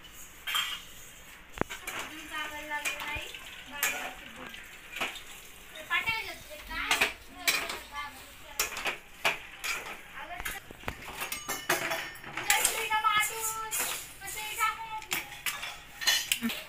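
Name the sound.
mixing roasted spices with utensils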